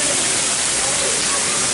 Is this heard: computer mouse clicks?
no